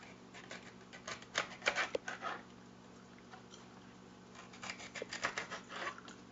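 Celery stalks have their whitish ends cut off, giving crisp snipping and cutting sounds in two close clusters of quick strokes separated by a quieter pause, with no talking.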